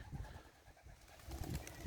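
Long-distance racing pigeons at a loft in Poland, giving soft, low cooing calls close by, with light rustling and flutters around them that swell slightly toward the end.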